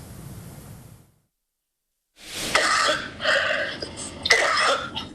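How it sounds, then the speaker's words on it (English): After a second of silence, a series of rough, strained coughs from a mild coronavirus case, three harsh bursts in a row, close and fairly loud. "Your cough sounds very painful."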